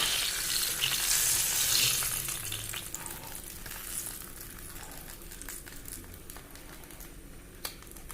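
Jackfruit pieces frying in hot oil give a dense, steady sizzle and crackle up close, loudest at first and easing slightly, with occasional soft stirring clicks and no voices.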